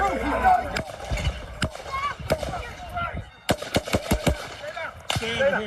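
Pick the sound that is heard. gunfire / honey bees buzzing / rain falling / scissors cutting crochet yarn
gunfire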